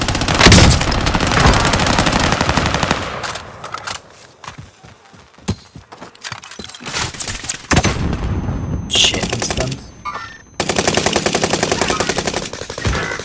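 Video game gunfire: bursts of rapid automatic shots and scattered single cracks, loud and dense at first, thinning into sparse shots, then resuming as a sustained burst, with game sounds around it.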